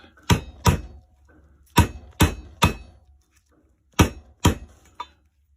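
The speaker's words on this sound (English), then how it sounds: "Got a copper hammer simply because don't want to whack the socket to death." A copper hammer strikes a socket during a Tuff Torq K55e transaxle rebuild, ringing out seven sharp metallic blows in uneven pairs and triplets, loud and close with brief decays and quiet gaps between.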